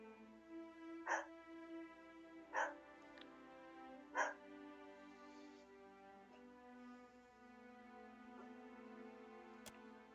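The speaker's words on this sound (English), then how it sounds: "What are you barking at?" Dog barking in the fantasy role-playing game Pillars of Eternity 2: three sharp, evenly spaced barks over a steady game music and ambience bed, moderately loud and close.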